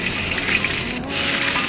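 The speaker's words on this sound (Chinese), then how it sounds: "这鱼煎着煎着就劈叉了" Fish sizzles steadily in a hot pan, a dense continuous frying hiss with faint crackles and no voices over it.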